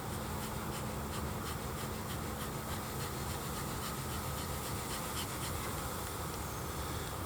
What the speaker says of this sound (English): the bees have kind of come back out of this box